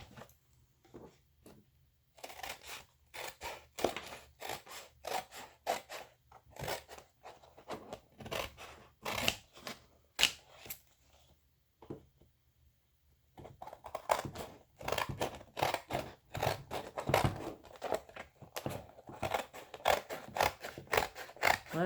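Kitchen scissors cutting through heavy paper in a quiet room, with a steady run of short snipping and crunching strokes, a brief pause midway, then a denser burst of cuts.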